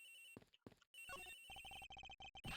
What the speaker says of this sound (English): The ringing's coming from in here